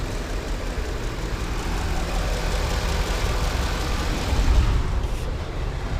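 A classic X308 Jaguar XJ8 Vanden Plas V8 idles with the hood open, giving an even, constant rumble heard close up, with no voices.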